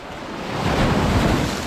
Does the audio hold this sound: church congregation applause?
no